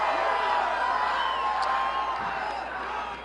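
A large crowd cheers at a governor's victory speech after a recall election, a dense, sustained roar of voices and whoops that fills the hall and fades slightly toward the end.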